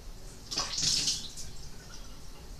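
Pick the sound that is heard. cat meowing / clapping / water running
water running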